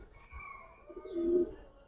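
A Giribaz pigeon coos once, a soft low throaty call rising briefly, with faint background noise and no voices.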